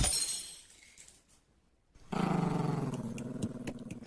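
A deep, rough dog growl in an animated story, loud and sustained for the last two seconds after a dip into near silence.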